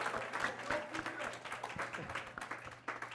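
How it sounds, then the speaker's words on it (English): A room of people gives a round of applause for a woman standing up, moderately loud clapping running throughout with some talking mixed in. "Give her a round of applause,"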